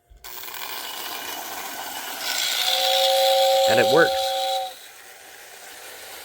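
An old Lionel 2037 toy train's whistling tender sounds a steady, hissy two-tone whistle for about two seconds over a continuous motor hum, close and fairly loud; someone speaks briefly.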